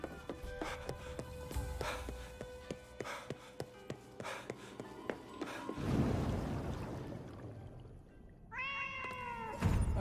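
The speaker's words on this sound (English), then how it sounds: "Another cat" A cat meows in the video game Ghostwire Tokyo: a short run of rising, wavering meows near the end, clear over steady game ambience and a run of earlier rhythmic clicks.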